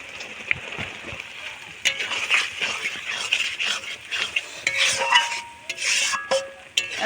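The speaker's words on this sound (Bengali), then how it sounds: "পেঁয়াজের সঙ্গে মশলাটাও খুব ভালো করে আমি কষিয়ে নেব।" Onion with turmeric, chilli powder, Kashmiri chilli powder and salt sautéed in a pan, a spoon scraping and stirring in repeated strokes over a soft sizzle, fairly close, with a voice speaking at points.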